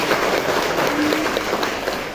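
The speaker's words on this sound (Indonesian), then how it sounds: "Beri tepuk tangan dulu untuk kita pada pagi hari ini." Applause from an audience at a morning Indonesian family-planning and stunting-reduction event in Jember, East Java, a steady dense clatter of clapping filling the whole stretch at even loudness, with no talk over it.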